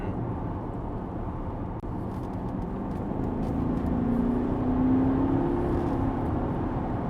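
Remapped Porsche Panamera 4S with the 4.0 V8 bi-turbo accelerating, a muffled steady engine hum heard from inside the cabin that swells and climbs in pitch toward the end.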